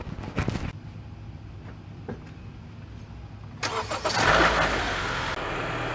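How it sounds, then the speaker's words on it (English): Honda Accord engine cranking and catching after a few quiet clicks, then settling into a steady idle, close and clear with no talk. "When I turn on the vehicle"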